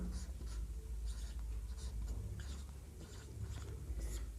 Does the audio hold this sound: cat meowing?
no